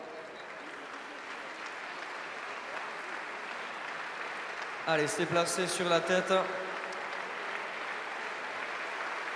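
Audience applause at the Grand Slam final of the Cesta Punta internationals in Saint-Jean, sustained distant clapping with someone speaking over it briefly in the middle.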